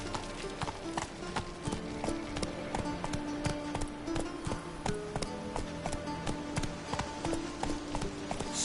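Roach the horse gallops in The Witcher 3, a steady rapid clip-clop of hooves running throughout, close and clear over game ambience and music.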